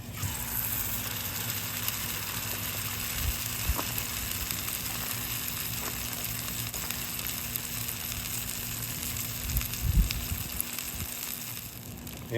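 Eggs and bologna fry in a cast iron skillet over a hobo stove outdoors, a steady soft sizzle throughout with a few faint clinks and a brief bump near the end.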